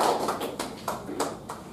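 Applause from a meeting audience, with a few bursts of clapping standing out over a steady background murmur, moderately close and lasting under two seconds.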